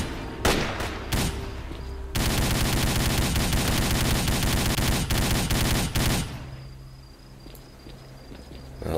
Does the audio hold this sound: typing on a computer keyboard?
no